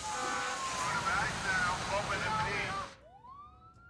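Fire truck sirens in the SimCity video game blare in a dense, loud wash of wailing tones. The wash cuts off abruptly, leaving a single rising siren sweep.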